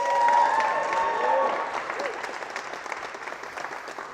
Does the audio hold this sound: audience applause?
yes